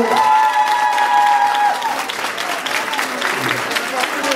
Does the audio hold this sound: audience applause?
yes